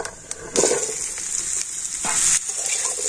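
Raw mango pieces coated in turmeric hit hot oil already holding fried dried red chillies and five-spice seeds, bursting into a loud, bright sizzle as a spoon turns them with a few scraping stirs.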